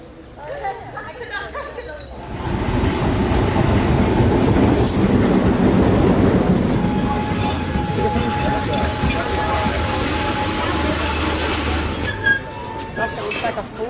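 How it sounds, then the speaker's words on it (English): Public train noise in Sri Lanka fills the clip: a steady rumble of carriages with wheel squeal and clatter, close and loud, plus faint voices and an occasional bird chirp. "jumping on just a public train to get us back towards Colombo"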